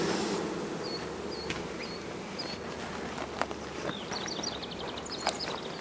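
A honey bee swarm on a farm in summer gives off a steady, even buzzing hum, with scattered bird chirps rising over it.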